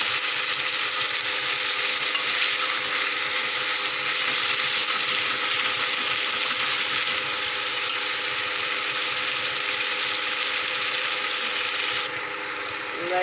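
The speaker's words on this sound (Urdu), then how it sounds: "یہ ہم اچھی طرح سے اس کو فرائی کریں گے، اس میں یعنی کہ سبزیاں بھونیں گے" Vegetables fry in a pan for potato dish, a steady broadband sizzle running continuously at close range, dipping slightly near the end.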